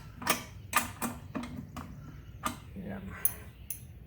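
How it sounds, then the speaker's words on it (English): Metal clicks and ratcheting as nuts and bolts are snugged up on both sides of a Brinly 50 lb push spreader during assembly, a run of sharp separate ticks spread over a few seconds with faint rustling between them. "it says to tighten nuts and bolts on both sides of the spreader at locations shown"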